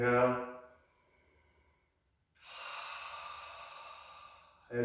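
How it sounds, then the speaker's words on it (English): A long, steady breath pushed out through the mouth during a yoga and chi kung breathing exercise, a soft airy rush lasting about two seconds after a brief spoken instruction. "Exhale through the mouth."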